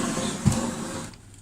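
A Ricoh office printer, back in working order after repair, runs with a loud, steady mechanical whir and one brief thump before the noise tapers off.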